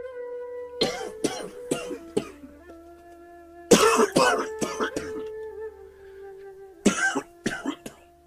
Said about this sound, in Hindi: अरे सुन, ये कैसी खांसी लग गई तुझे?